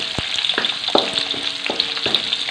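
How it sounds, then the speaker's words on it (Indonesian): Ground spices for a jengkol stew (semur jengkol) sizzle steadily in a hot pan, with a spatula scraping and stirring at regular intervals, close and clear with no talking. "Tumis sampai naik aromanya wangi sahabatku ya."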